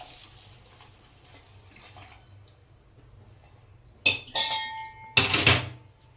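Milk is poured into a pan of sautéed grated carrots for carrot halwa, with quiet kitchen noise at first, then two loud close splashing pours near the end.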